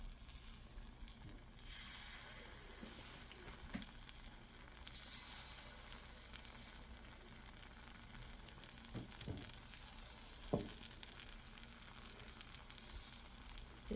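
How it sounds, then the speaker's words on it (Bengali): Oil-free pitha batter hits a hot appe pan and sizzles steadily and close, with a hiss that runs throughout and a few sharper crackles and taps. "এখন আমি মেজারমেন্ট কাপে করে ব্যাটারটা নিয়ে অ্যাপি প্যানে দিয়ে দেবো।"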